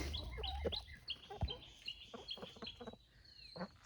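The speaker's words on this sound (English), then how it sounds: "So we have this Orpington rooster, which I want to keep." An Orpington rooster clucks in short, irregular bursts outdoors, faint and somewhat distant, with a few higher bird chirps mixed in.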